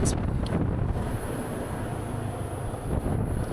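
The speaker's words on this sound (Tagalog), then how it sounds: "Ang lamig oh, lakas ng hangin." Strong, cold wind buffets the microphone in a steady, loud roar with gusty rumbling throughout, no one speaking.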